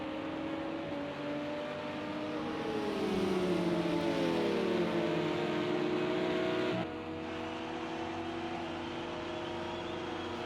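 Porsche race cars in a racing video game at Daytona, heading through the Le Mans chicane, engines droning loudly and continuously with rising and falling pitch sweeps as several cars pass and shift, with a sudden drop in level near the end.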